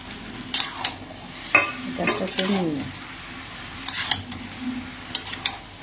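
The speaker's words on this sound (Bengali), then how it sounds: "এবার এটা মিক্সিং করে নেব ভালোভাবে" A utensil scrapes and knocks against a pan while white sauce pasta is mixed, giving irregular clinks and stirring scrapes close by, with quiet gaps between strokes.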